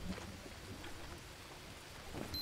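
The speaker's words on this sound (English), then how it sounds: "well, there we go, it's going to start raining again" Rain falls steadily in the jungle of the Green Hell video game, a constant soft hiss with a low rumble of thunder underneath, even and moderately quiet for a couple of seconds.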